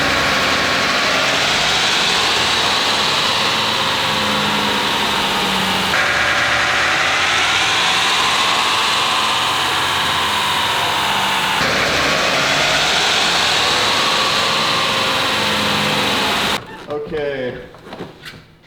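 A diesel truck engine runs hard on a chassis dyno, a loud, steady, sustained roar that holds for about sixteen seconds and then cuts off abruptly, leaving quieter background noise.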